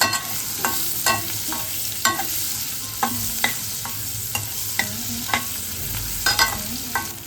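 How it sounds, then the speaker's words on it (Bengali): Crushed garlic fries in oil in a pan while a spoon stirs it, sharp scraping strokes about once every half second over a constant soft sizzle. "রসুনটা যেই হালকা ভাজা হয়ে যাবে তখন আমরা কুচনো পেঁয়াজ দিয়ে দেবো"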